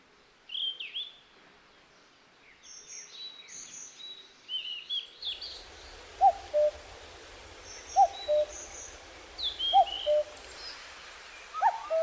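Birds call around a mountain temple in Duryunsan: a cuckoo and a Daurian redstart, with repeated short hooting notes and higher chirps, spaced a second or two apart over faint low background rumble.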